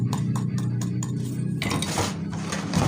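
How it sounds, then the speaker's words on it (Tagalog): Batter for binangkal being mixed in a bowl with milk powder and baking powder, a utensil clinking and scraping against the bowl in quick repeated strokes, close and steady over a low background hum. "Mix very well mga guys."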